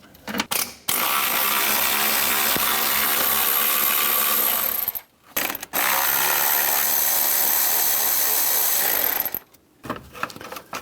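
A ratchet and 10mm socket loosening two bolts under the radiator cooling fan of a 1997-2001 Honda CR-V, with long loud bursts of rapid mechanical clicking broken by two short pauses, close up.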